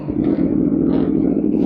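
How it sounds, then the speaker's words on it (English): A hot car engine strains to turn over, its starter grinding in a steady, low, churning drone at close range, without catching. "the starter is right next to the engine, so it struggles to turn over whenever it's hot"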